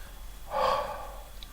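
A single open-mouthed exhale onto a cupped palm comes as one soft, breathy rush of air lasting about half a second, close and alone in a quiet room.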